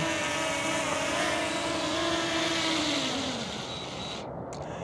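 DJI Mini 4K drone hovering close and loud as it comes in to land, a steady high whining buzz of propellers with pitch sliding slightly downward before it cuts away near the end.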